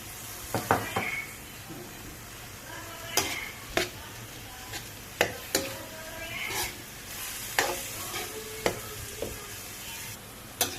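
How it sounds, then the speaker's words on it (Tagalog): A hotdog sautéing in a pan while spaghetti sauce is being made, with steady low sizzling under repeated sharp clinks and scrapes of a utensil stirring against the pan. "Igisa din natin ang hotdog."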